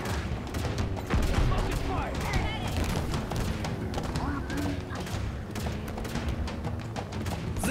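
Halo Infinite gunfire rattles in dense bursts and thumps through a vehicle battle, loud and continuous, while a player talks over it.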